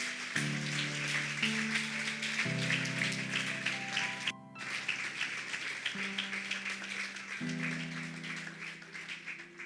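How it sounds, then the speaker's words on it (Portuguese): Church congregation applauding at an evening worship festival, a dense wash of steady clapping sustained over held keyboard chords, loud and continuous with a brief dip midway. "Se você crê nisso, aplauda Jesus"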